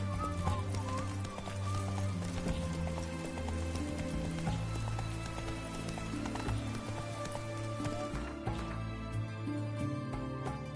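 In The Witcher 3 video game a horse gallops in rapid, continuous hoofbeats with a game score playing underneath, the pounding rhythm running steadily throughout.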